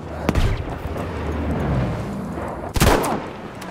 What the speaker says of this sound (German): aufpassen! Granate kommt!